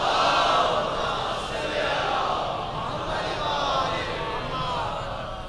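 A large crowd at a Shia majlis mourning gathering for Imam Hassan loudly recites salawat in unison, a dense sustained chorus of many voices that fills the whole clip without pause.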